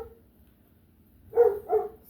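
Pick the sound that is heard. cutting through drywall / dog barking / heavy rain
dog barking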